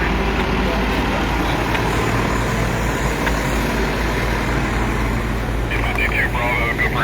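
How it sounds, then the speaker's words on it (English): Steady, loud roadway rumble from passing trucks and cars near a rural wildfire scene, continuous for the whole stretch with a faint higher whine near the end. "Traffic."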